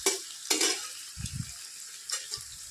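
Chicken and spices frying in a hot pan in a home kitchen, with a few short bursts of sizzling and stirring scrapes separated by brief quiet gaps, close by, with no voices.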